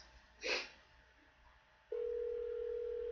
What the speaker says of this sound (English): I'm just calling the scam likely numbers back in my mama's phone